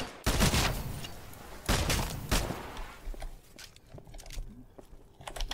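Gunfire in the video game Titanfall, during training: a few loud sharp bursts of shots up front, then scattered fainter distant pops and clatter as the action quiets.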